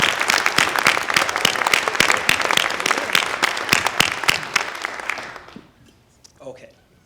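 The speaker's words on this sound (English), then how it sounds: "another round of applause for our incredible speakers" Audience at the Langston Hughes Festival ceremony honoring Colson Whitehead applauds its speakers, a dense burst of many hands clapping that holds steady for about five seconds, then fades out, with a brief voice near the end.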